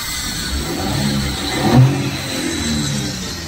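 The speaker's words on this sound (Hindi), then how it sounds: "तो सीएनजी के अंदर फ्रेंड्स स्टार्ट हो चुकी है गाड़ी।" A Maruti Suzuki Alto 800 with an aftermarket CNG kit runs on CNG, its small engine giving a steady low hum with a slight rise in the middle of a short stretch.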